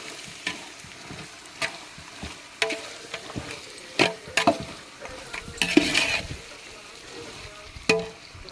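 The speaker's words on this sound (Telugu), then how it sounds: "మసాలాలంతా కలిసేలాగైతే బాగా కలుపుకుందాం" Biryani masala stirred in a pot over a wood-fire stove: a ladle scrapes and knocks in sharp irregular strokes over a soft sizzle, fairly close, without talk.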